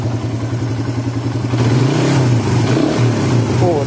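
A Suzuki Satria FU motorcycle engine with a newly fitted BRT CDI idles with a close, pulsing beat, then revs up and drops back, and idles again briefly.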